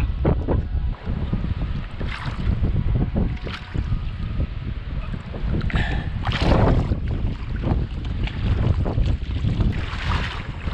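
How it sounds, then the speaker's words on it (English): Strong wind buffets the microphone on a fishing boat at sea in tropical waters, a constant loud rushing roar with gusting swells throughout. "I don't know if you can hear me, the wind's pretty strong now."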